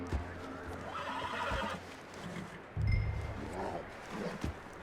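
Horse neighing and whinnying in Red Dead Redemption 2, with hoof clip-clops and rustling in the game's outdoor scene, plus a second louder whinny midway, all heard without talk.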